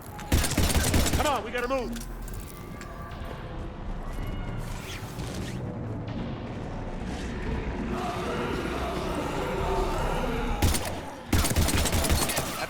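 Bursts of rapid gunfire fired at Husks in Mass Effect 3. Loud volleys open the clip, a sustained rattling fight runs underneath, and another heavy burst follows near the end, while a voice shouts urgently in between.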